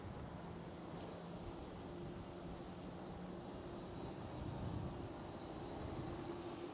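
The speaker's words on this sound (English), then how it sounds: "There goes the KLM, a Dreamliner that stood here in front of us." A KLM Boeing 787 Dreamliner departs at Schiphol, its engines a steady, broad roar heard from some distance, swelling slightly toward the end with no talk over it.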